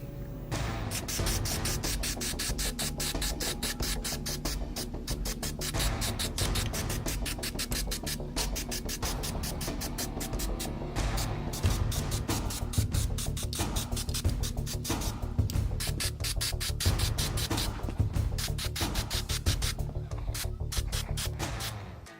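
An aerosol spray can puts a coat of paint onto a Han Solo blaster prop, giving a steady, close hiss that carries on almost without a break and grows a little louder partway through.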